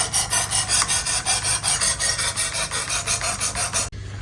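A Work Sharp Precision Adjust Elite sharpening stone rasps across a knife blade in about twenty quick, even back-and-forth strokes, loud and close, ending abruptly.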